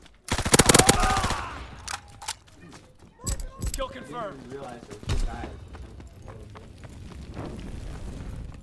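A fighter aircraft strafing run in Call of Duty WW2, with bursts of rapid machine-gun fire and heavy booms scattered among sharp shots. Voices are heard in between.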